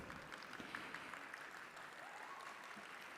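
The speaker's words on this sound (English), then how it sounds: "I'm very excited to hear the roar of applause" An audience at a summit applauds, a dense, steady wash of clapping from a large crowd that holds at an even level for several seconds.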